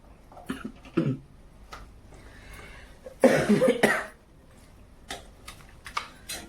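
A couple of close coughs, one short and one longer, harsh burst, separated by quiet with faint clicks and rustles between.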